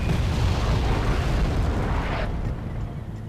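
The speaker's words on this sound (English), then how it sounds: "the enemy was bombarding my position" Artillery bombardment in the Wargame: European Escalation strategy game, a dense, sustained roar of overlapping explosions that stays loud before dropping slightly in the final second.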